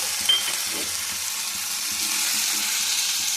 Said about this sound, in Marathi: मिक्स करत करत भाज्या पण टाकत जायचं